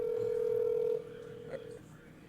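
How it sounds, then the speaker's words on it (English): A phone call rings through once as a steady electronic ring tone that holds for about a second, then drops to a quieter, lower tone before cutting off. "Tried calling a friend, but rang once, went to voicemail."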